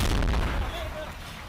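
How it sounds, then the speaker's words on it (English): A booming explosion follows a small plane crash in a Utah neighborhood, heard as a heavy rumbling blast that decays over about a second and a half. "An explosion after a small plane crashed in a Utah neighborhood."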